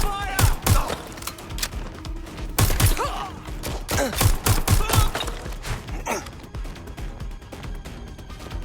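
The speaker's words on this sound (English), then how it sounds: "I'm taking fire!" Gunfire in Watch Dogs: Legion, a burst of sharp shots and thuds near the start, then scattered bangs mixed with shouting voices and game noise, fading to a busier background toward the end.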